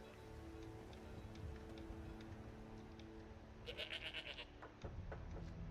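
A goat bleats in Skyrim, a short burst of bleats rising briefly over a steady background hum of game ambience, moderately close.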